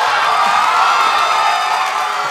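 A studio audience at a Bangladeshi TV magazine comedy show gives a burst of applause and cheering, a steady dense roar of clapping and crowd noise held at full level throughout.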